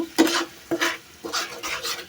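Several soft scraping strokes of a spoon stirring a blended spice mix into a spicy fish curry in a pan, spaced unevenly, over a faint sizzle.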